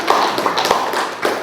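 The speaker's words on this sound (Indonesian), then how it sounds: "tepuk tangan untuk Pak Eri dan Bu Christine." Audience applause for Pak Eri and Bu Christine at a positive-culture outreach session, a dense patter of hand claps sustained steadily through the moment, fairly close and moderately loud.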